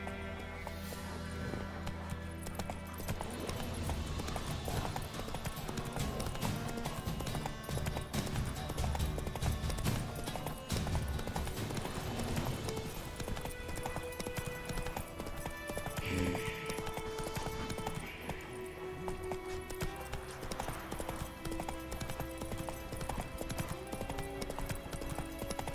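Horse hooves galloping in a steady clip-clop rhythm under continuous game music and ambience, with an occasional whinny, as a rider urges the mount on in The Witcher 3 video game.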